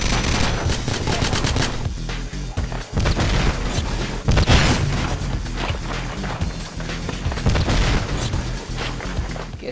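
Rapid bursts of automatic gunfire and booming shots from the GoldenEye video game in split-screen multiplayer, dense and loud, continuing almost without pause throughout.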